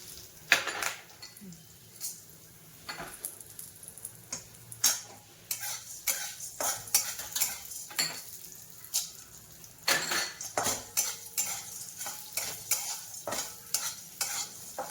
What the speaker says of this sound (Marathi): याला चांगलं हलवत राहायचं, सारखं चांगलं खमंग भाजायचं याला।